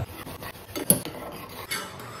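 A spoon scrapes and clinks against a pot while corn soup powder is stirred into boiling water, quick irregular metallic strokes close by with no one speaking.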